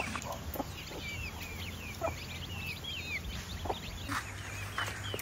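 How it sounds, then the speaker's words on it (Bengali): A large white hen with a bare, featherless neck clucks and chirps in short, repeated calls over a busy outdoor background with faint bird sounds. "এই দেখো দেখো, এই যে বড় মুরগি, গলায় হ্যাঁ, এই সাদা। গলায় পশম নেই।"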